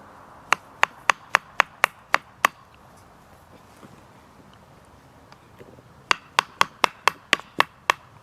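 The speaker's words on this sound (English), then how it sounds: "I might as well use my hammer to help set this in." Two bursts of sharp, evenly spaced hammer strikes on a wooden bow drill piece, about eight blows each, separated by a quiet pause; close and crisp.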